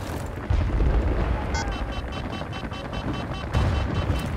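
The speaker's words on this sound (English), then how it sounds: "Explosive charge has been planted." Explosive charge detonating in Battlefield Bad Company 2 on the Oasis map, heavy low booms swelling twice over a rumbling battlefield din with brief tonal game signals in between.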